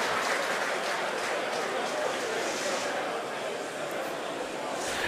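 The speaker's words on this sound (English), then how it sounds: "You may have heard the SpaceX team cheering in the background." A SpaceX team cheers and applauds during a Falcon 9 launch carrying a Dragon resupply ship, a steady wash of distant crowd noise running throughout under a commentator's voice.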